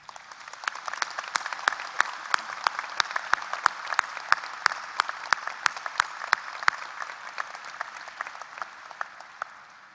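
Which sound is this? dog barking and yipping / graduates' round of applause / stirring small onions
graduates' round of applause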